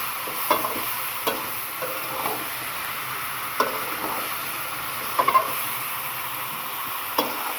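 Chicken and puti fish are stirred together in a hot pan, with steady sizzling and hiss broken by a handful of soft spoon scrapes and taps, close and fairly loud, with no talking.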